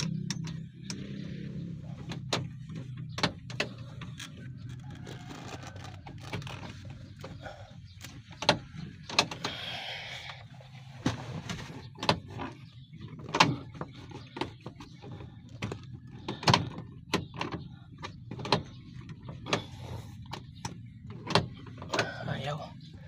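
Door latch and handle of a Suzuki DA64W van being worked open: repeated sharp clicks, clunks and rattles over a low steady hum, with someone talking nearby.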